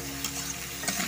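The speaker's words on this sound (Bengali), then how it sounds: "এবার আমি ভালো করে এটা মিশিয়ে নিব।" Shing fish curry with fresh bottle gourd is stirred in a frying pan, a short burst of steady close sizzling with scraping stirs over it.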